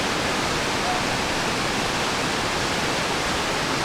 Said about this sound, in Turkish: İleriden şelaleden su geliyor.